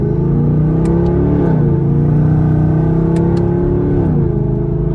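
A straight-piped 6th gen Chevrolet Camaro SS with an automatic gearbox drones loudly from inside the cabin, its deep exhaust rumble holding steady and then stepping down in pitch twice as it shifts under acceleration.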